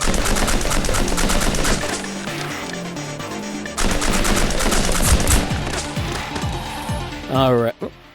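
Rapid rifle gunfire in an Xbox Live Indie video game rattles on densely and loudly over game music and effects, with a short rising electronic sound near the end.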